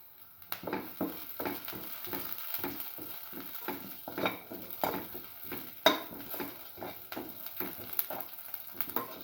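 Garlic pieces and salt go into a hot pan, with a soft steady sizzle under a string of close, irregular scraping and stirring clatters.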